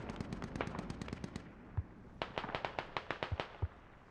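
Mortar fire in a competitive video game match, heard as rapid rows of sharp cracking reports, a pause, then another volley with a few deeper thuds, moderately faint.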